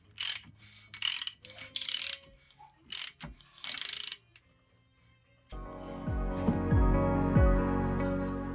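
Ratchet clicking while tightening bolts on a Suzuki GS450 engine, several quick bursts of sharp ratcheting with pauses, followed by a lower continuous mechanical grinding hum.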